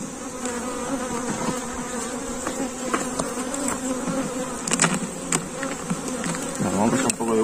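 Honey bees buzz steadily at a beehive being inspected by a beekeeper, a close, dense droning hum with individual bees flitting past the microphone and faint handling noises.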